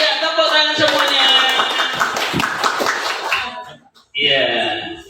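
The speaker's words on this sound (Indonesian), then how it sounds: "Iya, tepuk tangan semuanya." A class of children claps hands together in a busy burst of overlapping taps, followed by a short pause and a brief voice.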